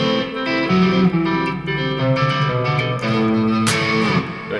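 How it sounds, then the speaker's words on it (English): An electric guitar plays a clean, hybrid-picked Dorian pattern of overlapping notes and chords in a steady rhythm, with no voices. "One that I also picked up recently was this kind of hybrid picking pattern right here"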